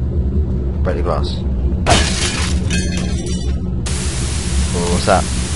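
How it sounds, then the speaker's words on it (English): Glass shatters in the horror game Nightmare House 2: a sharp crash, then a second, longer burst of breaking, both over a low droning rumble. "Break the glass."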